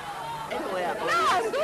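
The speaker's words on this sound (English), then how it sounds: "The angry crowd rush to where the food is" An angry crowd of refugees rushes toward a food distribution point, a loud, continuous hubbub of many overlapping raised voices and shouts that swells toward the end.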